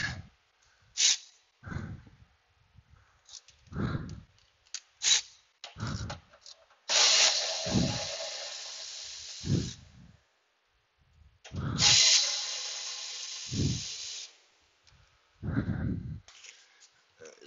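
Power tool spinning bolts out of a 2013 Chevy Volt battery pack, several short whirring bursts and two longer runs of a couple of seconds, mixed with clanks and handling noise in a quiet garage, no talking.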